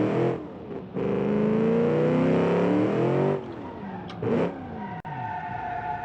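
A car in the Automation car tycoon game revs hard and its tires skid as it loses grip, a loud sustained engine roar with a rising pitch, then a brief squeal and a quieter rev.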